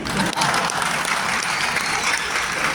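An audience at an Urdu mushaira poetry gathering breaks into dense, sustained applause, a steady wash of many hands clapping with no voices over it.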